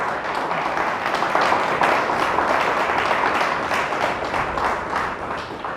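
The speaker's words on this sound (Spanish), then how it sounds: "Dale fuerte el aplauso a Dios." A church congregation applauds God during a service with a sustained, lively round of clapping. It stays loud and fairly even from start to finish.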